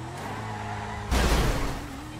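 Car in GTA5 sliding into a handbrake skid: steady engine drone, then a sudden broadband scraping burst of tyres and impact roughly midway, tailing off into the engine hum.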